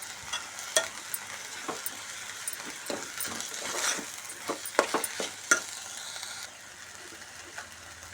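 A spoon stirs masala through khichdi in a pan, giving a series of soft scraping strokes over a faint sizzle, close by and fairly quiet.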